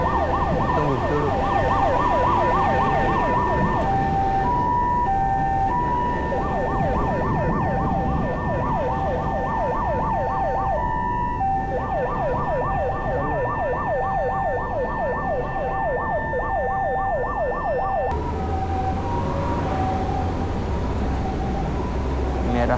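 An ambulance siren wails along a street in Japan, a loud repeating two-tone pattern that holds steady over passing traffic noise, then cuts off abruptly near the end, leaving street rumble.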